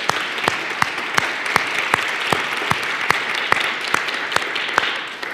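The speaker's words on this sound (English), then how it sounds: "So can we just give a big round of applause to the Clinton School?" Audience applause at an organization's talk, a dense, steady clapping from a crowd with sharp individual claps standing out regularly, fairly close and fading slightly at the end.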